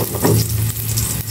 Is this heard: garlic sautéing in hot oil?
yes